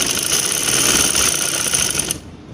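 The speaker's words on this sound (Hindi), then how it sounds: "चले मशीन पर चलते हैं और इस पर सिलाई लगाते हैं।" Sewing machine stitching along the reverse side of fabric for a boat-neck garment, a loud continuous close whir that cuts off abruptly near the end.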